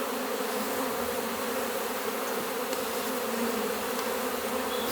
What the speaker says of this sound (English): There's currently bees everywhere.